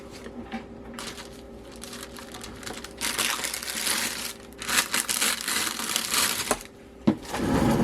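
Plastic shrink wrap bags crinkle and rustle close by while wax melt cupcakes are wrapped, a continuous crackling with sharper crunches and a few taps.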